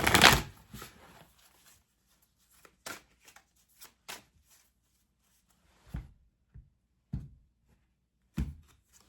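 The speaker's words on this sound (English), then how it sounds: "And we'll take an oracle card here first." Oracle cards for a tarot reading shuffled close up: a riffling burst at the start, then scattered soft taps and slaps as single cards are handled and set down, with quiet pauses between and no talking.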